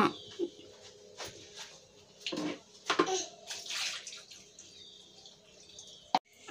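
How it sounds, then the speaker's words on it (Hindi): Water from a bucket splashes in short, uneven bursts as something is washed at home, with quiet gaps and faint birds in the background. "साफ करके धो ना। पानी वहाँ पे है जो बाकेट में"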